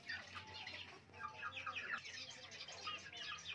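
Around seven young chicks kept at home peep and cheep in soft, overlapping chirps, fairly faint and continuous.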